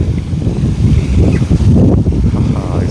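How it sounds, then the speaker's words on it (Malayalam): A public fountain splashes in Vilnius, Lithuania, as cold wind buffets the microphone, a loud continuous rushing of water and gusts close by. "ഇവിടെ ഒരു ഫൗണ്ടൻ്റെ അടുത്തെത്തി"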